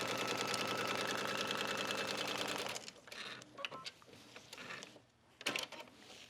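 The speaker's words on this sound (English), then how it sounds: "as you're stitching, just hold the fabric together to make sure that one side isn't sliding more than the other." Sewing machine stitching faux suede fabric with a standard foot, a fast, even mechanical rattle for a few seconds that stops, followed by quiet handling clicks and light rustling.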